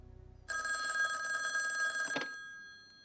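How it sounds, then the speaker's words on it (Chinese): A telephone bell rings indoors in one long, loud, continuous burst of about a second and a half, cutting off sharply and leaving a quiet room. "我接到了华安的电话"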